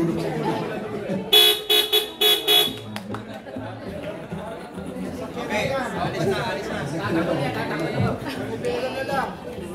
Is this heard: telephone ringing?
no